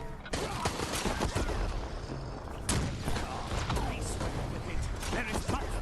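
Rocket launcher fire in Resident Evil Resistance: two sharp, loud blasts a couple of seconds apart, each with a clattering mechanical tail, over dense crackling game noise.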